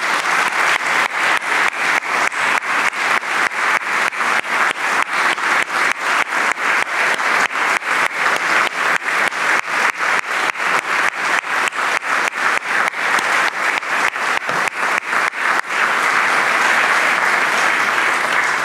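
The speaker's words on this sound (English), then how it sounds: "just because you stood and applauded" A church congregation at an annual meeting gives a standing ovation, with loud, sustained, dense clapping that continues steadily for the whole stretch and swells slightly toward the end, with no voices over it.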